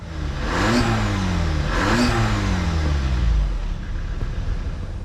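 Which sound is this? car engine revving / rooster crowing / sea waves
car engine revving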